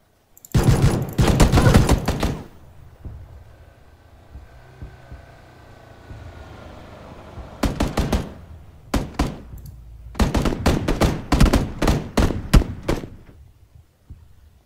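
Clusters of rapid gunshots in PUBG crack out in bursts, separated by quiet gaps, with a final volley of sharp single shots.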